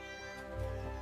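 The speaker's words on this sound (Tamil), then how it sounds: "அங்கே பூனைகள், எங்கும் பூனைகள்." Cartoon cats meowing on an island in an animated short, a short tonal call that swells near the end over sustained musical background.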